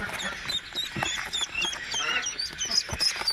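Ducklings being placed one by one into a container after feeding: a close, busy chorus of high-pitched peeping and quacking that continues without break.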